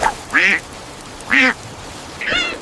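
A cartoon hip-hop duck quacks three times, each quack short, nasal and evenly spaced with quiet gaps between.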